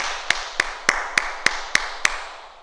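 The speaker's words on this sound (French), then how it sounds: "On s'applaudit" Seven sharp, evenly spaced claps in a steady rhythm, crisp and close, from a group applauding themselves together in unison during a martial arts class session.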